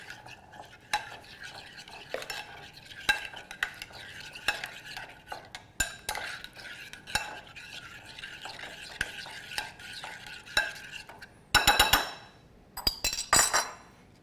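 A spoon scrapes and clinks steadily in a bowl, stirring salsa and Dijon mustard together, then taps sharply against the rim in a few louder knocks near the end.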